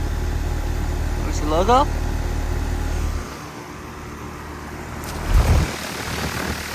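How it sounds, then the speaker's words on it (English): A 2021 Bryant Legacy 2 ton heat pump with a Copeland scroll compressor runs in heat mode in January, a steady low outdoor hum that drops away partway through, with a person talking briefly over it. "Here's the Bryant heat pump running. Running in heat mode right now."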